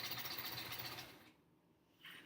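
Sewing machine stitching a quilt top with light blue fabric for a sampler quilt, a faint, steady rapid whir that pauses briefly and then starts again.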